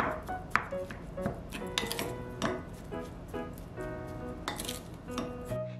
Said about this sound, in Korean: 밥에 참기름 1~2스푼 넣고 소금 살짝 밑간하고 골고루 비벼줍니다